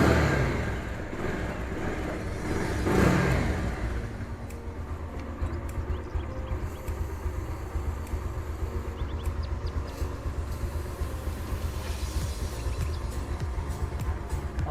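A Pulsar 220F motorcycle engine revs up and holds a steady, rumbling run close by, with a louder surge near the start before settling into a constant drone.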